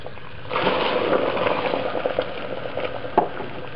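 Water bubbling and simmering in a casserole cooking pot, a steady broad rolling boil heard close with continuous bubbling texture and a sharper pop near the end.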